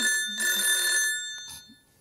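A telephone rings in an office during a comedy sketch, with a short, bright burst of electronic bell tones that trails off and fades to quiet.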